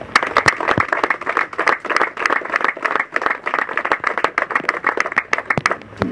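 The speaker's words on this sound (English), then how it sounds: "I want to give them a round of applause." A steady round of applause at a golf tournament, many hands clapping densely and continuously at close range, with no voices standing out.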